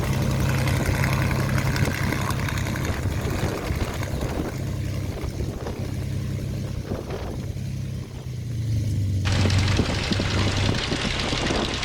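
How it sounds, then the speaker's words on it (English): A Rolls-Royce Merlin engine runs on Spitfire ML407 at Sywell aerodrome, a loud, steady low rumble with a deep throb that holds throughout, briefly dipping before swelling back up near the end. "put the ignition on, and we'll get some noise. There's a working Merlin"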